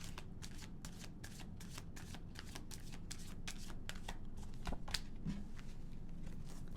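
Tarot cards being shuffled over and over in a quick, rhythmic run of soft riffling bursts, close and quiet, with a single louder flick near the end.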